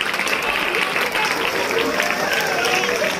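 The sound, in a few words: audience applauding students at school science exhibition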